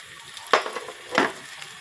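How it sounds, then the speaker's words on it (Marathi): Green chilies frying with onions in a pan for dal khichdi: a steady sizzle with two brief bursts of stirring scrapes, close and moderately loud. "मिरची पण त्यात परतते म्हणून मिरची टाकून घ्यायची कांद्याबरोबर."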